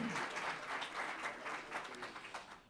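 A church congregation applauds for God, the clapping broad and continuous, fairly soft and slightly distant, tapering off near the end.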